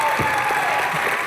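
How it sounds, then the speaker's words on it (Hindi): Studio audience applause on the Indian TV comedy show Comedy Nights With Kapil: a brief, even wash of many hands clapping, loud and continuous, with a faint steady tone underneath. "जोरदार तालियां"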